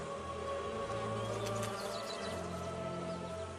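Wild African honeybees buzz steadily around a colony nesting inside a hollow tree trunk, a dense continuous drone of many insects with a few louder passes near the microphone, with no voices.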